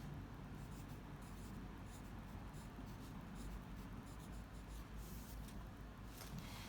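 Pen or pencil writing on paper during a second-grade classroom lesson on sensory details, a steady soft scratching that runs close and continuous for several seconds with no talking over it.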